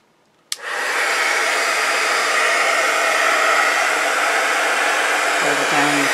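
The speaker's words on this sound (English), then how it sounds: "And a heat gun." A heat gun clicks on and blows a loud, steady, breathy roar close by, continuing without a break for several seconds.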